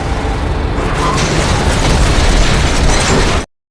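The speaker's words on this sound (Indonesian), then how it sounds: "Kemudian truk itu pun meledak dan terbakar." A film scene of a speeding truck exploding and burning, a loud roaring blast with crackling debris and rumble sustained for several seconds before cutting off abruptly.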